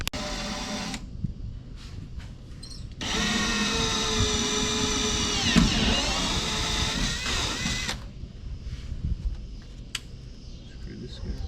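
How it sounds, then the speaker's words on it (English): A power drill whirs steadily for about five seconds while re-drilling screw holes in the interior of a 1973 Ford F100 under restoration, close and loud, with shorter bursts and handling noises before and after. "we're just gonna re-drill some of them"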